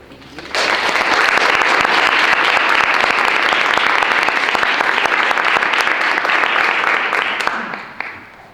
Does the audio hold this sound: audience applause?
yes